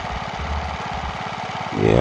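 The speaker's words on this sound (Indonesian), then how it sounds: "Mari kita hidupkan mesinnya ya." A petrol engine on a well pump sounds as a steady low putter with a rhythmic firing pulse, then revs up louder near the end. A voice talks over it.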